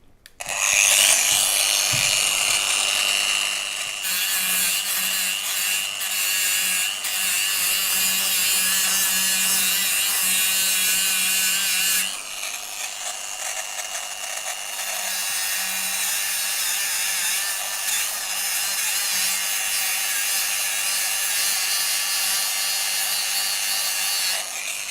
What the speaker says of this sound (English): So this is an extreme application for surface conditioning disc, even for an HD.